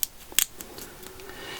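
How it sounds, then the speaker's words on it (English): Scissors with a rounded tip cut along the edge of a Warhammer 40,000 miniature base, giving a few sharp, close snips in quick succession with no talking. "I would recommend to use a good pair of scissors with a rounding on it"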